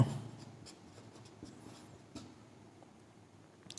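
Pen or pencil writing on paper during a maths lesson, a soft continuous scratching close by with a few brief taps and strokes, quiet and without speech.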